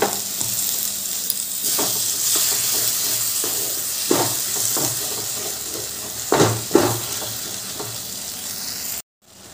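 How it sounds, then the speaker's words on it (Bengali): Salt being stirred into an egg curry's spice masala frying in a pan: a steady close sizzle with repeated scraping strokes of the spoon, a couple of louder stirs near the end, then a sudden cut. "এবার নুনটা দিয়ে ভালো করে মিশিয়ে নিচ্ছি।"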